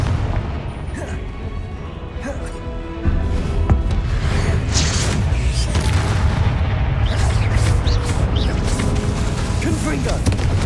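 Confringo blasting spells explode in the video game Hogwarts Legacy, repeated booming blasts and whooshes layered over steady combat noise, with a voice casting between hits.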